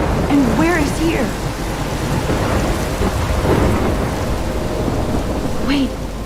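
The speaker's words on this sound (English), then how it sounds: "I'm trapped in a storm?" A rumbling thunderstorm with steady rain in the video game Life is Strange; dense rain hiss runs throughout under repeated rolls of thunder, with faint voice-like tones surfacing briefly.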